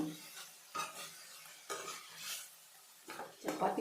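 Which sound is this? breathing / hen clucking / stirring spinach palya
stirring spinach palya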